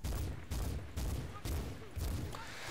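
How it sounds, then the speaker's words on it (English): Battle rifle gunfire in the Medal of Honor multiplayer beta on the Shahikot Mountains map: about six loud, evenly spaced shots, roughly twice a second, each a sharp blast with a short ringing tail. "I'm just trying to take a couple shots off at the back so that the rest of my team can advance"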